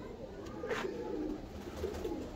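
Soft, low pigeon coos rising now and then over a faint background hum, fairly distant and quiet.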